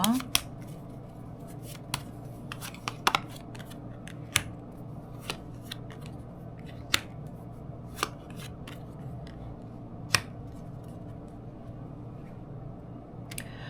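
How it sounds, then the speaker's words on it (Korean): Tarot cards are drawn during a reading, with faint papery rustles and scattered crisp snaps of cards being pulled and laid down against a quiet room background. "그럼 현 시점 조언 카드 한번 뽑아보도록 할게요"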